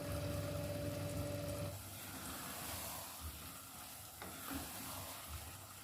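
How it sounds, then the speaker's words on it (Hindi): A spoon slowly stirs peas and egg curry in a pan after a steady hum cuts off, leaving soft, faint scraping and low simmering. "अब हम इसमें चमचा चलाएंगे बहुत ही आराम से।"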